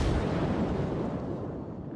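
A deep, booming rumble of warship gunfire in a naval video game, shells fired at the battleship Kirishima, loud and sustained with a slowly decaying low roar.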